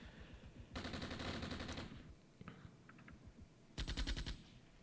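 Two light machine guns fire in the Armored Brigade war game, with two sharp, rapid bursts of shots separated by quieter battlefield noise and a few scattered distant pops.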